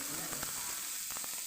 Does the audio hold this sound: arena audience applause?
no